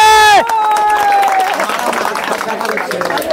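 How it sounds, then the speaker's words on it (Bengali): A studio audience at a Bengali football cage challenge game show claps loudly and steadily for a young contestant, a dense patter of applause with crowd murmur, following a brief musical sting. "আমার ছোট্ট বোনটির জন্য করো জোরে হাততালি"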